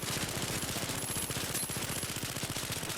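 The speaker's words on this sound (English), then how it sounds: "let's look at the medium SMG." A medium SMG in the video game The Finals fires a sustained, rapid burst of evenly spaced shots, loud and continuous for about three seconds with no talking.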